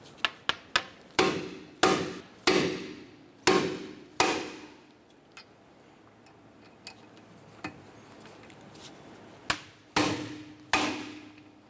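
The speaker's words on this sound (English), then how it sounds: "We're going to use our impact driver" An impact driver loosens screws on a Honda Accord suspension knuckle, firing repeated sharp hammering bursts in quick clusters with brief pauses between, close and loud against a quiet garage.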